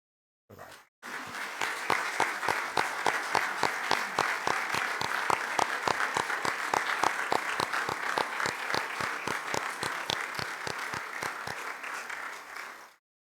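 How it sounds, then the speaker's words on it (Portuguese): An audience at a university rector's inauguration ceremony in Madeira claps in slow, rhythmic, synchronized unison for over ten seconds, a steady even pulse of applause that stops abruptly. "Darmos uma salva de palmas."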